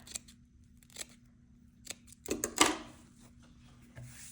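Scissors snip through crochet yarn while a wreath is being made, a couple of crisp close cuts standing out against a quiet room with faint handling noises before them.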